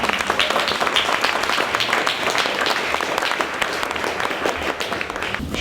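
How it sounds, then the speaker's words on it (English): An audience at an author event in Aarhus breaks into a round of applause, dense steady clapping filling the room throughout. "so maybe we should give Florence a round of applause."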